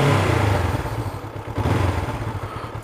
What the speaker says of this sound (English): Nice little burble to the exhaust.